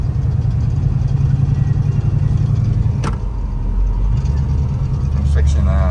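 A restored 1938 Ford pickup engine runs smoothly with a steady, loud low rumble that holds for the whole stretch, while voices are present in the cab.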